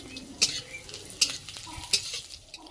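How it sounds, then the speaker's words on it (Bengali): Chopped onion and whole tempering spices frying in hot oil while being stirred, a steady close sizzle broken by three sharp scraping clinks of the spoon against the pan, no talking. "এখন দিয়ে দিলাম তেল, দিয়ে দিলাম একটা পেঁয়াজ কুচি, তারপর দিয়ে দেবো একটু ফোড়ন মশলা।"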